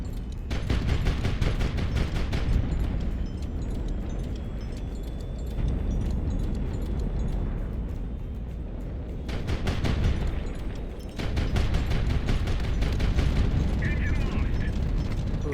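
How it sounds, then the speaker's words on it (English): Rockets fire and strike ships in a naval battle in the video game HighFleet, with rapid rattling bursts of launches and impacts, rumbling explosions in between, and a second loud salvo near the end. "Ah, those fucking rockets!"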